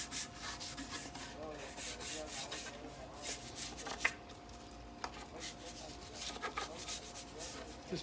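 A brush scrubs dirt and grime from the textured top of a Chevy K5 Blazer console lid. The scrubbing is soft, close and repetitive, with quick back-and-forth strokes and an occasional knock.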